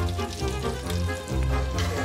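Shad roe frying in a pan of butter and bacon fat, a steady close sizzle and crackle continuing without pause, with a faint low thump partway through.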